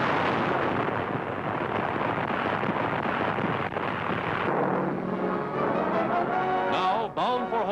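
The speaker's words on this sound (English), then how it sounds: "bombs are on their mark, and the freighter is crippled by the explosion" Wartime bombs burst against a freighter at sea, a sustained loud roaring rumble of explosions with crackling and popping debris, later joined by whistling, descending tones.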